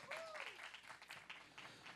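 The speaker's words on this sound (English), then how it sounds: "Let's give him a round of applause." A spiritual center congregation claps for a team member, soft scattered applause with a voice over it and a brief whistle-like rising tone near the start.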